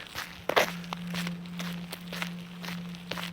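Steady footsteps crunch at an even walking pace, fairly close, over a low electrical hum.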